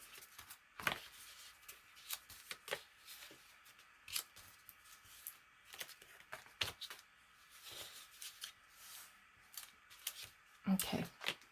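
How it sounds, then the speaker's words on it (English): Quiet, irregular snips of scissors through paper, short crisp cuts scattered with pauses, faint and close. "And then I'll get my scissors and do a little trim."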